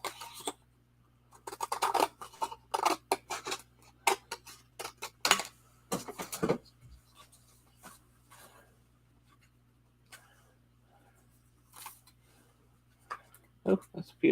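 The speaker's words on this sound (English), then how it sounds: "I really have to clean my scissors." Scissors cutting craft paper in quick bursts of sharp snips and scraping clicks, close to the microphone, with quieter stretches between and scattered faint taps.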